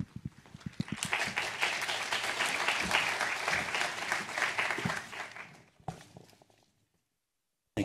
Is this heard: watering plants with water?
no